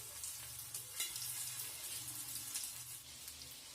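Chicken cutlets shaped from batter frying in a pan, a faint, steady hiss of oil with a few small crackles, close and continuous throughout.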